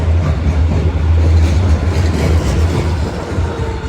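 A Frankfurt tram on line 12 rolls past on Friedberger Landstraße, a loud, steady low rumble with rail noise and a faint motor hum that stays close throughout without talk.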